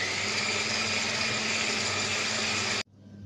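Halva pie dough with butter being mixed by an electric mixer, a loud steady whirring drone that cuts off abruptly near the end.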